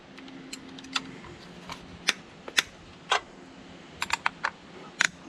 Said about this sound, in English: So I'm using a wrench down here so I don't have to take the lower cowling off